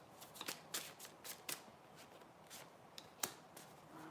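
Tarot cards being shuffled and flicked by hand, a quiet run of crisp, irregular riffling snaps and slides heard up close with no talking.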